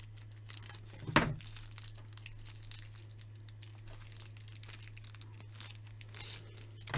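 Plastic packaging on a Masters of the Universe Origins Sorceress toy being cut and torn open, quiet intermittent crinkling and rustling with one sharper crackle, close, over a low steady hum.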